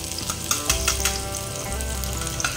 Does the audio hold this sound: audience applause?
no